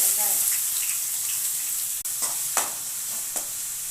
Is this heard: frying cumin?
yes